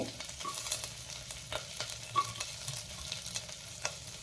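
Black mustard seeds and cumin splutter in hot oil as green chillies go in for a ridge gourd chutney: a steady close sizzle broken by scattered sharp pops and crackles, with no voices.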